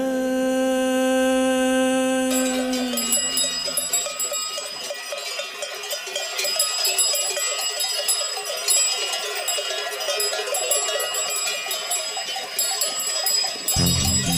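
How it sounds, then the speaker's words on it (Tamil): Clanging neck bells on cattle ring steadily over a dense musical backdrop, loud and continuous throughout. "காட்டு வழி காளைங்க கழுத்து மணி கேக்கையில"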